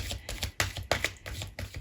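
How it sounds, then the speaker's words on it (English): Deck of oracle cards being shuffled by hand, a run of quick, soft riffling taps and flicks close up, fairly quiet with no talking. "I'm shuffling, but I haven't showed you the cards."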